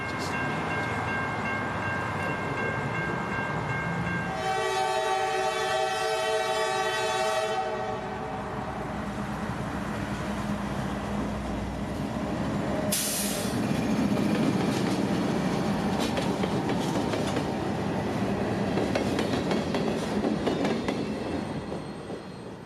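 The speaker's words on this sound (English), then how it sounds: "Thursday's train would be a polar opposite with a single CSX locomotive and 2 covered" A CSX freight train, a single locomotive hauling two covered hoppers, passes near Tampa: loud sustained horn blasts sound first, then a heavy rumble and the clatter of wheels on rail as it rolls by.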